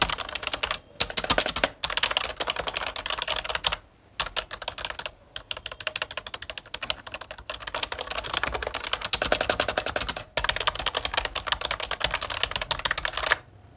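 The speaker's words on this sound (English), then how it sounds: "I want to tell you about the sound of the keyboard." Keys clatter on a gaming computer keyboard in rapid, dense bursts of clicks and taps, close and loud, with a few brief pauses between runs of typing.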